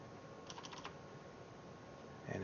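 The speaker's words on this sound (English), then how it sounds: "helps to type it correctly." Quiet, quick keystrokes on a computer keyboard, a short burst of clicking taps over steady background hiss while entering commands into the Exchange Management Shell.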